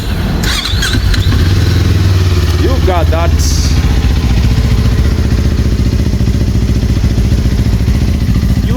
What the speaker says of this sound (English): Let us hear how the 450cc engine sounds.